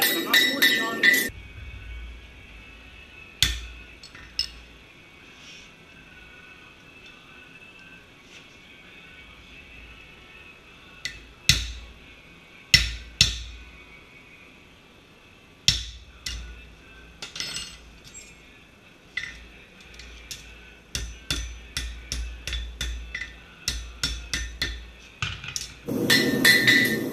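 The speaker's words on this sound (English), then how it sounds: "Set that right on the corner. And just barely tap it." A hammer taps a concave hind horseshoe on the corner of an anvil in ringing metallic strikes, sparse light taps at first and then a faster run of blows near the end, with someone talking at times.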